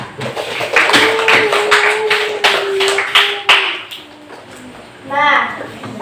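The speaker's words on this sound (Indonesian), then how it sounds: "Tepuk tangan dulu buat kelompok 4" Schoolchildren in a classroom clapping for a presenting group, bursts of hand claps with children's voices and a teacher talking over them.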